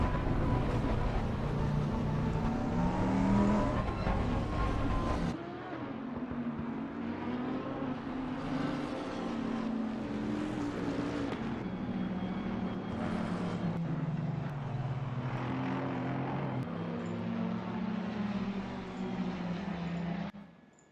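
GT3 race cars in the video game Assetto Corsa Competizione weave behind a safety car to warm their tyres, producing a steady blended engine drone with shifting pitch that drops in level partway through and carries on evenly.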